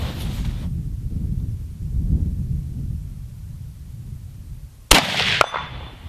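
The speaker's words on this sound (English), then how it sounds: "Sure makes a lot of noise when it hits that steel" A 25-06 rifle bullet strikes a steel target outdoors, giving one sharp, bright metallic crack with a short ringing tail after a stretch of low rumbling wind or background noise.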